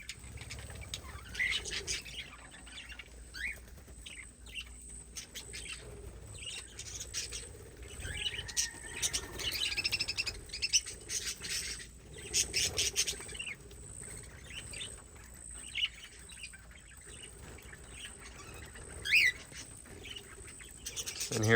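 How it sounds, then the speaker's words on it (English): Small parrots, cockatiels and budgies in an animal-care facility, chirp and squawk almost constantly in a busy, overlapping chorus with sharp calls scattered throughout and no talking. "Taking care of these small parrots, so all the cockatiels and budgies"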